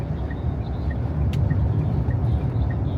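A car cruising on a highway during a long road trip, heard from inside as a loud, steady low rumble of engine and road noise with no pauses and no talking.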